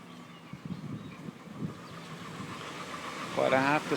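A repaired Ford Explorer 4.0 engine idles quietly with a slight roughness in a garage, a low steady rumble beneath someone talking, with a brief whine near the end.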